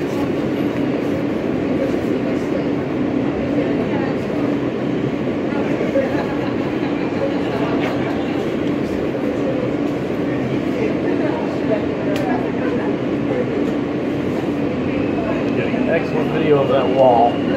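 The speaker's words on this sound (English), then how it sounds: "here we are on the E train" Steady onboard rumble of an Alstom R160A E subway train riding slowly through New York toward JFK, a continuous low roar with faint rattles and occasional squeaks, with a voice talking over it.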